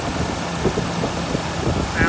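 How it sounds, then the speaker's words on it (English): A 1979 C3 Corvette with a 350 Target Master crate V8 idles steadily and close by, a low, even engine rumble with slight pulsing under a faint voice. "There's your 350 Target Master crate engine."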